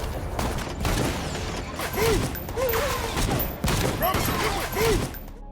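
Intense gunfire rattles through a battle with robots, with dense, continuous bursts of shots and clattering mechanisms keeping a loud, sustained barrage, punctuated by sharper spikes and brief tonal whines.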